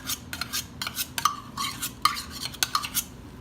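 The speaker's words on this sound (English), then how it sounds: "If you don't like the cooking noises" Spoon scraping and clinking against a pot while stirring beef stroganoff with sour cream, quick irregular metallic taps and scrapes close by, steady and busy with no talk.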